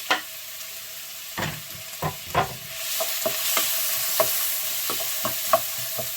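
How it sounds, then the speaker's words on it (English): Onion slice frying in hot oil for keema, with a steady crackling sizzle that swells after a few seconds, broken by several sharp stirring clinks and scrapes of a utensil against the pan. "I've got some oil heating up there. To that, I'm gonna add one onion slice."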